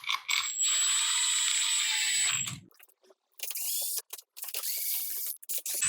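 Ball-end Allen drivers spin bolts into a Revelry 700cc kit, giving a long close ratcheting whir that breaks off, then returns in shorter choppy bursts with brief gaps between.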